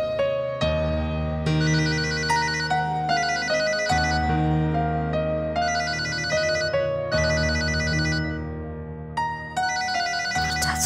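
A phone rings with an incoming call, playing a loud, clear melodic ringtone that repeats its tune in steady phrases for about eleven seconds with no talk over it.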